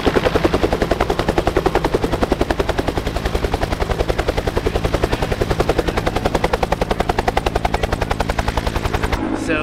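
Helicopter flying to an airfield gives a loud, close, steady rotor chop with rapid rhythmic thumping, unbroken until it drops off at the very end.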